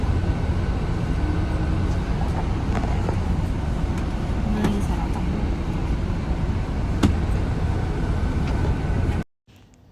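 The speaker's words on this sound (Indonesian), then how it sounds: "Halo, kita lagi di bis mau ke Malaysia." Steady low rumble inside a 21-seat bus travelling from Singapore to Malaysia, a continuous engine and road drone with a brief voice over it before it cuts off near the end.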